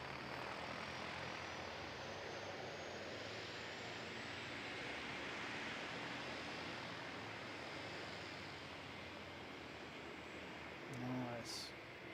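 A Warrior light propeller aircraft departs from an aero club airfield, its engine drone a steady broad roar mixed with wind noise, with a brief louder swell near the end.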